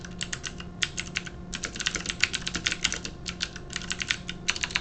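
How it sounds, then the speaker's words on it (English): A loud mechanical keyboard clatters with rapid, irregular bursts of sharp key clicks, steady and close, with no talking. "No, it's just a loud mechanical keyboard."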